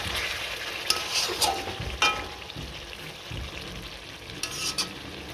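Chicken pieces sizzle in a hot pan for dudh chicken as a spoon stirs them, with steady frying hiss broken by several scraping strokes and light clinks.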